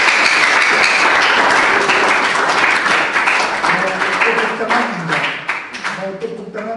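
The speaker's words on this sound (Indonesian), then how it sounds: "Tepuk tangan sekalian" Audience applause at an Indonesian church gathering: dense, sustained clapping from a crowd that stays loud and then thins out toward the end, with voices and singing tones emerging underneath.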